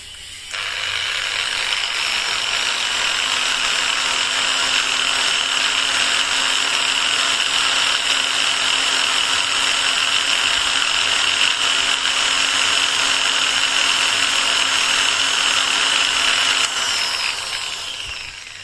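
A Total variable speed angle grinder runs at its second speed setting with a steady, loud, high-pitched whine close by. It holds evenly for about sixteen seconds, then stops abruptly.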